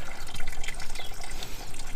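Water pours steadily into the coolant system of a Mazda 5 during a flush, a loud continuous splashing gush close by with no talking.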